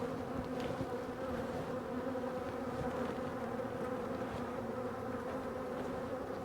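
Honeybees swarm and buzz steadily around an open hive full of brood, a dense, continuous drone close to the microphone with no pauses and no talking.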